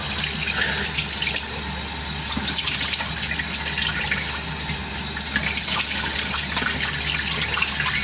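Icy-cold water runs from a kitchen sink tap in Japan, a steady, close hiss and splash that holds evenly for the whole stretch.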